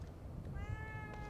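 A cat in The Evil Within 2 video game gives a short meow over a low steady in-game background hum, moderately soft and without talking.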